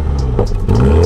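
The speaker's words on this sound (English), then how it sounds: "the rear exhausts are even bigger than the ones on the Countryman. And yes, they do sound pretty good." A MINI John Cooper Works Clubman's large rear exhausts rumble and rev close up, the engine note rising and swelling through a short burst with no talk over it.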